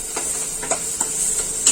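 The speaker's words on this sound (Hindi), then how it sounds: "उसमें पहले मैगी डालेंगे और सब मिक्स करेंगे एक साथ" Maggi noodles being stirred and mixed in a pan for masala Maggi, giving a steady sizzling hiss with a few soft scraping strokes of the spoon at irregular intervals, close and moderately loud, with no talking.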